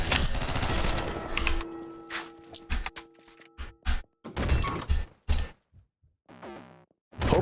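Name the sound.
gunfire from video game OTXO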